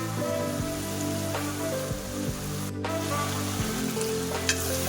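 Ginger garlic paste fries in a pan for country chicken fry with a continuous, even crackling sizzle. It sounds close and is heard alone, with no talk.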